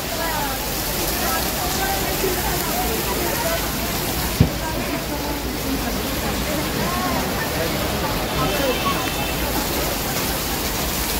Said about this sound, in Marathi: एवढा जोरात पाऊस येतोय